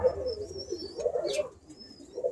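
A Birmingham Roller pigeon hen coos close by in low, throaty pulses, with a few faint chirps and a brief rustle between the phrases.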